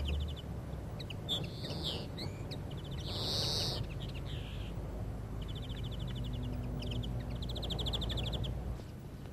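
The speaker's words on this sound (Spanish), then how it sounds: "El último tirón pone en alerta a un nutrido grupo de pájaros que emprenden la huida." Small birds chirp and twitter in bursts as a flock takes flight during a goldfinch trapping outing, faint to moderate calls over a steady low outdoor rumble.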